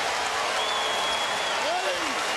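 Crowd cheers and applauds at a 2014 NCAA college slam dunk contest after a between-the-legs dunk, a steady loud roar of a large arena crowd with a commentator speaking over it.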